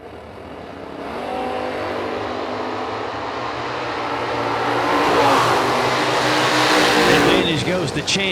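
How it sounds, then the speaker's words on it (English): Drag racing cars launching down the strip at a bracket racing event, a loud, sustained engine roar swelling as they pull away, heard from trackside with a commentator's voice over it. "Double breakout race goes McCrory's way"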